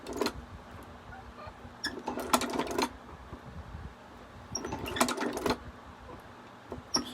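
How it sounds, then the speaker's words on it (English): A China leather shoe patcher sewing machine stitches in short clattering bursts, two quick runs of rapid needle strokes separated by pauses, close up with a low steady hum beneath. "And I will do my 4 stitches, and I'll still try to line it up so that the needle doesn't go through the previous"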